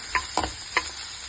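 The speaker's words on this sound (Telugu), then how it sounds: "ఉల్లిపాయలు, పచ్చిమిర్చి వేసుకొని కలిపెట్టుకోవాలి. మంచిగా అవి ఫ్రై అయ్యేంత వరకు కలిపెట్టుకోవాలి." Onions and green chillies fry in oil under a low steady sizzle, broken by three soft spoon-against-pan stirring knocks in quick succession.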